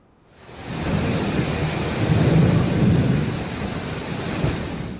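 A heavy thunderstorm with pouring rain in Riyadh, Saudi Arabia, produces a dense, constant roar of rainfall with a deep rumble of thunder swelling underneath, with no voices.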